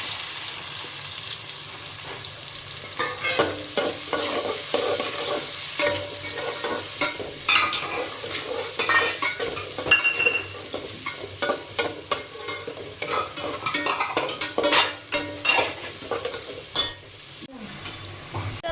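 Mustard seeds, cumin, curry leaves and a large chopped onion fry in a pan for a Kannada brinjal curry, a steady loud sizzle with scraping spoon strokes and spattering crackles throughout.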